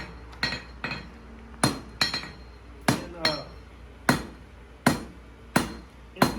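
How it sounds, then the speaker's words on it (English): A blacksmith hammers hot metal at a forge using traditional methods, striking sharp ringing blows in a steady rhythm about every 0.7 seconds, close and loud with a metallic clink on each hit. "It's a good day to be hammering."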